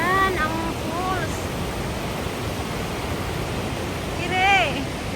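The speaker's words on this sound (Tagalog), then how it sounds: "Ayan, ang falls." Gorogataki Falls in Yamato, Kumamoto roars as a broad, steady rush of falling water, loud and constant throughout. A person speaks briefly near the start and again near the end.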